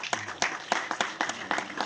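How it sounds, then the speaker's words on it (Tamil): An audience at a Tamil film event claps in short rhythmic bursts, a steady patter of hands filling the hall at close range, with no talking over it. "கைத்தட்டு"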